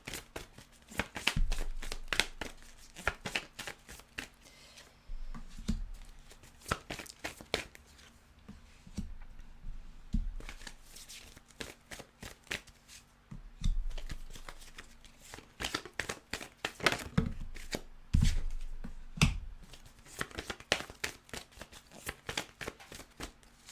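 Oracle cards are laid out in a cross spread and covered one by one on a table: soft, close card slaps, slides and shuffles arrive in irregular bursts, with hands moving between them.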